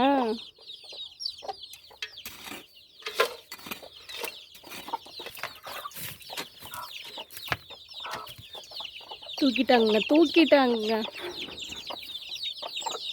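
Hens cluck repeatedly in bursts, close by, with a higher squawking flurry near the end; a person speaks briefly over them.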